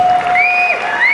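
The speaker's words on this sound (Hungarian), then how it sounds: "Újra tapsolunk." Audience applause at the 2016 Scitec Nutrition Achievement Award gala in Hungary: a steady, dense wash of clapping from a crowd, with a sustained high tone gliding over it throughout.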